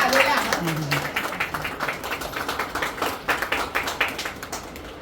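An audience clapping at a Bharatiya Jain Sanghatana women's wing ceremony honouring accomplished mothers; a voice speaks briefly at the start, then a steady run of crowd claps continues throughout at moderate loudness.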